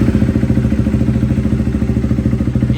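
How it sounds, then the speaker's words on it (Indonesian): KTM RC390 2024 motorcycle with an Akrapovic exhaust, still fitted with its catalytic converter, idling in neutral: a steady, loud, close-up single-cylinder thrum with an even rapid pulse throughout, no voices. "RC390 2024 pakai knalpot Avionic"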